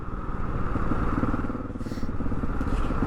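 Motorcycle riding through a 20 limit and easing off, its engine a steady close rumble with wind noise and slight unevenness as the pace drops.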